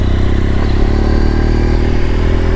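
A BMW GS1200 motorcycle on the road gives a steady, close engine drone with a low rumble and faint rattling, continuous throughout with no talking.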